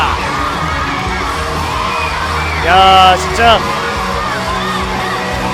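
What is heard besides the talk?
crowd of wrestling fans cheering a wrestler's entrance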